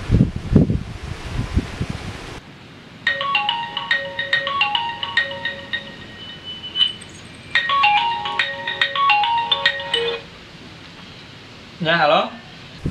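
A phone ringtone plays as a quick, busy electronic melody in two bursts, with a brief rising chirp afterward; rustling and a voice are heard just before it starts.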